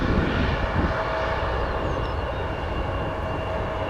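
A CRJ-200 jet at O'Hare airport roars continuously in a broad, steady rumble, fairly loud and distant, with no break over the few seconds.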